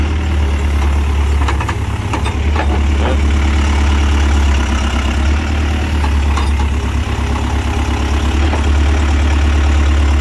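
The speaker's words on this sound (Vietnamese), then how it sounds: "Máy nổ giòn tan." The engine of a used tracked hydraulic excavator idles close by in a loud, steady low rumble that lasts throughout, with occasional faint knocks and one brief spoken word.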